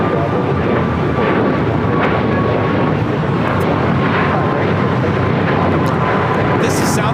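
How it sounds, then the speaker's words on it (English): A Southwest Airlines Boeing 737 MAX 8 takes off from LAX with a loud, continuous, rumbling jet roar that fills the whole moment, while voices sound faintly underneath. "This is Southwest Airlines 2175 taking off to Phoenix, Arizona on a MAX 8"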